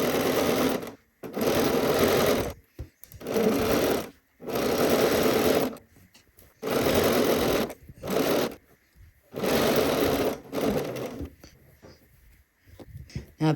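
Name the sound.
sewing machine stitching around a dress pocket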